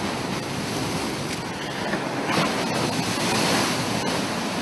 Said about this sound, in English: So let's go to Waves on Rocks